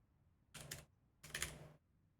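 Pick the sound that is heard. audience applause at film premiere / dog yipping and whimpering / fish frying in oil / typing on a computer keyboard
typing on a computer keyboard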